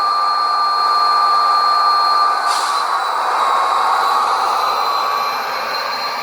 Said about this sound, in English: the prime mover will start revving back down to idle